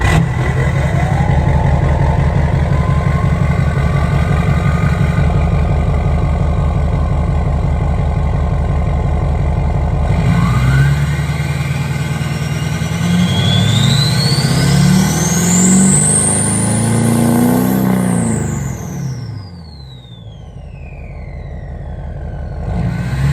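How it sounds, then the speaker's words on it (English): A Chevrolet Duramax LBZ diesel truck engine cranks, fires and settles into a loud, rough idle, then revs up with a rising turbo whistle before dropping back down near the end. "let's go ahead and start the truck. I want you guys to hear this LBZ"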